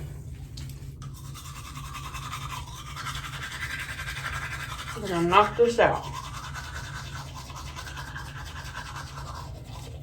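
A toothbrush scrubs teeth with toothpaste under steady talk, the bristle noise low and continuous with a brief louder burst of scrubbing midway.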